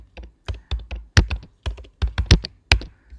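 Keys on a computer keyboard are struck in quick, uneven bursts of crisp clicks and thunks, close and clear with no talking, as data is entered.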